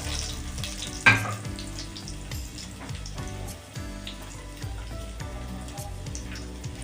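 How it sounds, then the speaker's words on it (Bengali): Cut potatoes fry in oil in a wok, a continuous bubbling sizzle with scraping and stirring noises and a sharp clatter near the start, close and moderately loud. "কেটে রাখা আলুটা আমি ভেজে নেব।"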